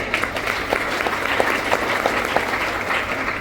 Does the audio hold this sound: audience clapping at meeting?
yes